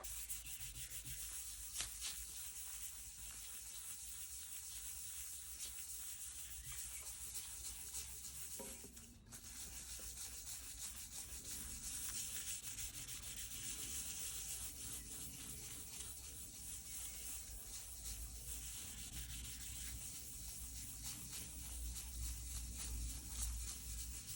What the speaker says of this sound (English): I think I'm going to use some Yorkshire grit for a change.